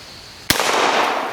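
A lever-action rifle fires a single sharp, loud shot outdoors at a shooting range, its report ringing and decaying over the following second.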